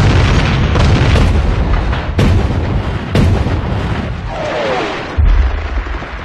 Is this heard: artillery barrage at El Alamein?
yes